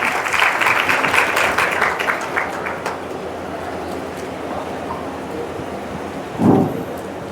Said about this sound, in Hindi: जोरदार तालियां आ रही है बच्चे सभी लोग जोरदार तालियां कर तालियां।